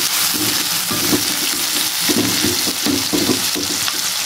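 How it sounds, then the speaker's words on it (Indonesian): Chopped garlic and shallots sauté in hot oil in a pan, a steady loud sizzle running throughout with the scrape of stirring mixed in, and no voices. "Ini bawang putih, bawang merah dulu ditumis ya."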